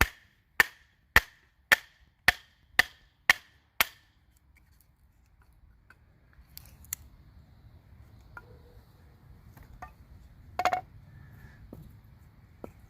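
An ESEE 6 knife chops into wood with eight sharp, evenly spaced strikes in quick succession. Faint scattered rustling and a few light knocks follow in near silence.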